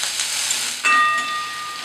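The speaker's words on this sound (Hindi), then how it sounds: "तेल गर्म होने पे ऑनियन को ऐड करें एंड 1 टीस्पून सॉल्ट डाल के अच्छे से भून ले।" Onion with salt fries in hot mustard oil, making a steady, close hiss and sizzle that swells briefly partway through.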